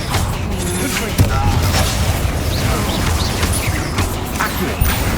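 A Confringo fire spell explodes in Hogwarts Legacy amid dense game combat, giving a sharp boom over a continuous loud rumble of battle noise with scattered crashes and pops.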